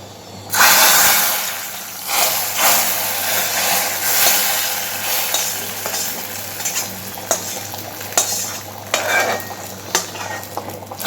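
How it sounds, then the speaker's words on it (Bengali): Hot tempering for vegetarian bhog khichuri poured and stirred into the pot, a loud sizzling hiss with scraping and clinks of utensils, continuous and close with bursts of crackle. "ফোড়নটা এবার খিচুড়ির মধ্যে ঢেলে দিচ্ছি"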